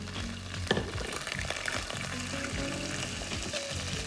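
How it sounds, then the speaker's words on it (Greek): Steady sizzling of onion frying in a pot, with occasional stirring scrapes and clinks, close and continuous with no talking. "Βάζουμε το κρεμμύδι εδώ μέσα στην άλλη κατσαρόλα να σοταριστεί."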